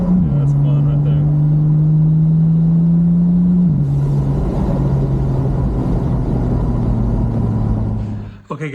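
A car fitted with a TurboSmart diverter valve and a new solenoid drives close by, its engine holding a steady droning note before shifting down and rumbling on with rising road and wind roar.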